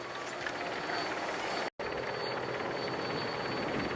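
A helicopter hovers over the Tour de France 2013 stage, a steady broad rotor and engine roar filling the scene with one brief dropout.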